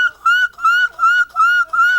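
A man vocally imitates a bird call during a church service, repeating a high, pure whistled note about five times in a steady rhythm, loud and close, with no other sound.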